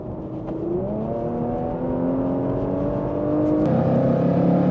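Jaguar F-Pace SVR and Porsche Macan GTS accelerating hard side by side in a roll race, a steady loud engine drone with rising gear tones that step down at a shift near the end, no talk.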